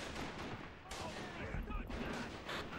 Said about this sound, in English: Where is this mortar fire coming from?